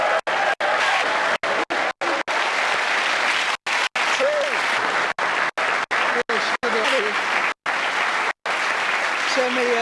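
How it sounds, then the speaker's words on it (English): A studio audience on a 1999 Australian football TV talk show applauds loudly and continuously, dense sustained clapping with brief cuts throughout. "give him a big round of applause"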